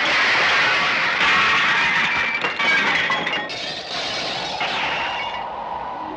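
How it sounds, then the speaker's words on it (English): Glass shatters in a 1960s horror film scene, a bright burst of breaking and clinking shards that trails off into scattered tinkling fragments, loud and close with no talk. "Glass shatters."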